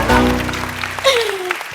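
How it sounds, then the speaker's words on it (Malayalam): An audience claps loudly for the five finalists at the Super Star Junior grand finale on a TV stage, with sustained musical tones and a sliding note ringing through the applause. "ഒരു വലിയ കൈയടി കൊടുക്കുക അവർക്ക്"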